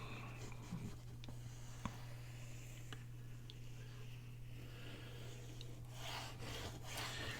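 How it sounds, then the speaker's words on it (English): A glue stick rubs over paper from a junk-mail envelope, a faint, close scraping and rubbing with a few light taps, over a low steady hum. "Now we're just going to put glue on this side."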